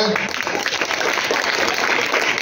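An audience at a children's literary gathering in a school hall claps in a dense, continuous burst of applause, close and loud throughout the short stretch, with some murmured voices mixed in.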